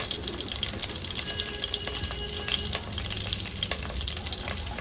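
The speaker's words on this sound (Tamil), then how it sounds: "கருவேப்பிலை முழுசாக காம்போடு போடணும்" Whole curry leaves on their stems fry in hot oil for a mutton curry, a loud continuous crackling sizzle with quick spitting pops at close range and no voices.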